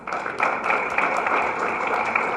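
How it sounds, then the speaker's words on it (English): Audience at a government ceremony in Sindh applauding steadily, a dense wash of many hands clapping at moderate distance, sustained without a break. "Hold your applause. Hold your applause."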